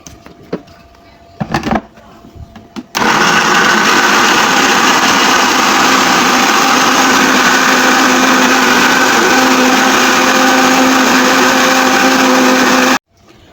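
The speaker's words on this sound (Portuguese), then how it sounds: "vou colocar agora no liquidificador o coco inteiro" A few clicks and clatters, then a blender blending whole coconut with milk roars to life and runs loudly and steadily for about ten seconds before cutting off abruptly.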